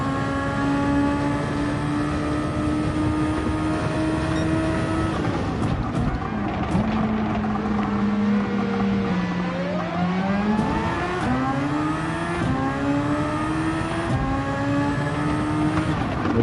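A Honda MP4/4 race car in Gran Turismo 7 roars with a loud, high-pitched engine that holds steady, then dips and climbs through several quick gear changes and revs, close and continuous with no talk.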